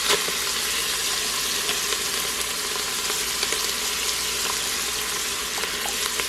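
Half an onion sizzles in hot oil in a pan, a bright, dense crackling hiss that holds steady and close throughout, with faint stirring taps and no talking.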